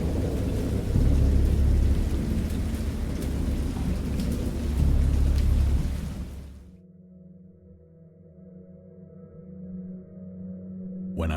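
Loud thunderstorm from the Lovecraft horror game Dagon, with heavy rain and deep rolling thunder for about six seconds, then an abrupt cut to a quiet low drone with a faint swell at the end.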